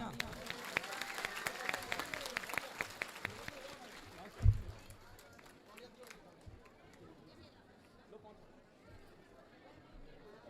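A crowd at a Shrimad Bhagavat Katha religious gathering claps in a scattered burst of applause mixed with chatter, then thins out after a single loud thump and fades into murmuring voices.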